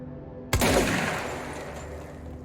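A single loud shotgun-style blast from the Service Weapon in Control, a sharp close crack followed by a long fading rumble and ringing tail, no voices.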